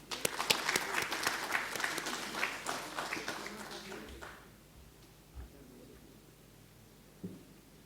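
An audience applauds to welcome a speaker at a philosophy talk, dense clapping that fills the first four seconds and then fades away, leaving quiet room tone with a couple of faint thumps.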